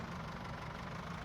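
A tractor engine idles in Farming Simulator 22 with a steady, low, rumbling drone and a faint knocking texture, continuous and unbroken with no voices.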